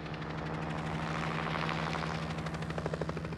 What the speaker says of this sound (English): Every summer, Stewart orders his ground and helicopter crews to kill larvae with a variety of bacterial insecticides